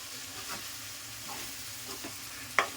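Brinjal pieces coated with turmeric fry and get stirred in hot oil for a curd brinjal curry, giving a steady close sizzle with faint scrapes and one sharp utensil clack near the end.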